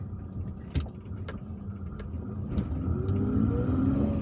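A car drives along city streets in Algiers, its steady engine hum and road noise building gradually louder, with a few sharp clicks and knocks near the start.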